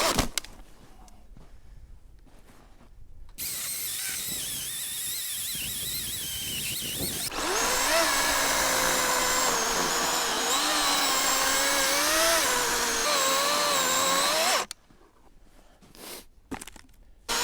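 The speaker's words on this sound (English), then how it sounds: "Yeah, I'd say this saw is not an all-day saw. You'd have to have tons of batteries for that." Battery-powered saw cutting through a log outdoors, a loud continuous buzzing whine that starts after a few seconds, rises in intensity midway, and stops abruptly near the end, leaving quiet rustling.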